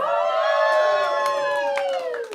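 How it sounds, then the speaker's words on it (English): An audience at a comedy show lets out a loud, sustained whoop of cheering for about two seconds. Several high voices carry over it before the cheer fades out. "He said as the crowd went wild."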